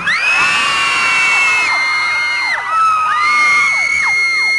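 A large concert crowd at a festival screaming loudly together, many high-pitched voices overlapping in sustained shrieks with rising and falling pitch.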